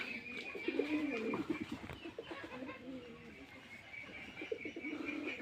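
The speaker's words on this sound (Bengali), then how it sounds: "ওই যে একজোড়া লাল কালার কবুতর দৌড়াচ্ছে" Red pigeons in a loft give soft, low coos in short repeated phrases, faint and fairly close. A light background hum runs underneath.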